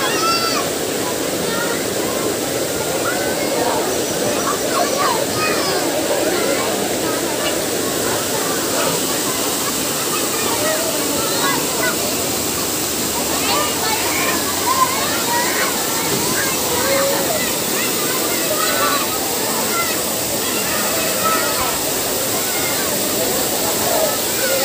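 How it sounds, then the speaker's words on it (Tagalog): Spring water gushes steadily out of the mountainside at a resort near Tagbilaran, a continuous broad rush like a small waterfall, with people talking faintly in the background. "dito guys yung nilabasan ng tubig galing sa bundok"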